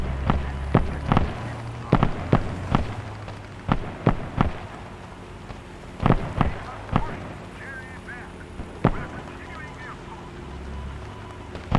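Explosions from falling bombs in the WWII shooter Post Scriptum arrive as a string of sharp, scattered booms and cracks, some near and some distant, over a low rumbling battlefield bed.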